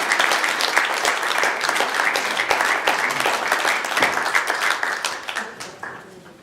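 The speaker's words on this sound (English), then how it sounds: "Let's finish with a round of applause." After a presentation, an audience breaks into dense, lively clapping that stays loud for several seconds and then fades out, with a few voices mixed in.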